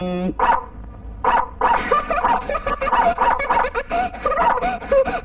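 Someone mimics dog barking with quick, repeated vocal yaps that run almost continuously, in a close, lively voice.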